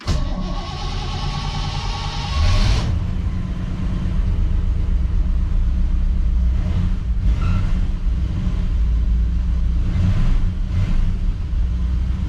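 A 1959 Chevrolet's 348 V8 engine cranks briefly, catches, and settles into a deep, loud, steady rumbling idle with occasional slight revs.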